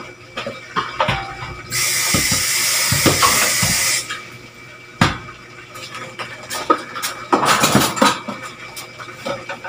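Steady hiss of water boiling hard in a pot, loud and continuous for a couple of seconds, surrounded by clinks of utensils and kitchen clatter.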